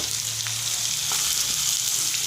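Onion, curry leaves and green chilli frying in hot oil in a kadai, a dense, even sizzle close by with faint stirring clicks.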